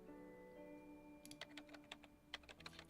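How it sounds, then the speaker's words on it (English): Fast keyboard typing is heard in the video game Reverse: 1999. After a quiet background hum, a rapid burst of irregular key clicks starts and keeps going, moderately close and with no talking. "The frantic typing resumes as soon as their conversation ends."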